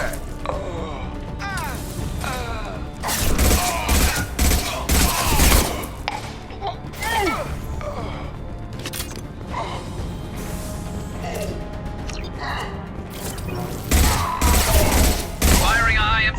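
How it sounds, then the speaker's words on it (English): High impact gunshots from a weapon in the video game Mass Effect 2, heard as repeated sharp bursts and mechanical clicks over a busy game mix, with some loud thumping impacts. "Firing a high impact shot."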